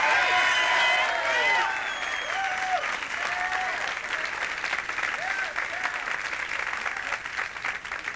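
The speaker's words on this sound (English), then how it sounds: "give Sal an applause, Larry." Studio audience at a 1983 comedy and magic show applauds steadily for a volunteer named Sal, dense clapping with some cheering that holds for several seconds and tapers slightly, with a voice heard faintly over it.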